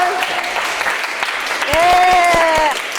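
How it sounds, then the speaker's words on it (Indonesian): Classroom applause as students clap for a quiz winner, a short burst of mixed claps rising midway over a background of voices, with a teacher's voice sustained over the clapping. "Selamat, tepuk tangan dong."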